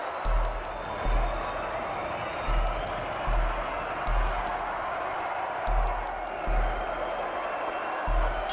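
Boxing arena crowd cheering for Marco Antonio Barrera after twelve rounds, a broad sustained roar with a steady low thumping beat underneath, loud and continuous.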